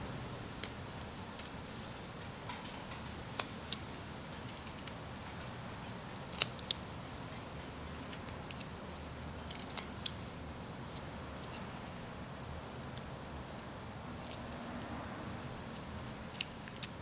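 Faint, sparse clicks and small cuts of a knife whittling a miniature wooden cowboy, scattered irregular snaps over quiet background.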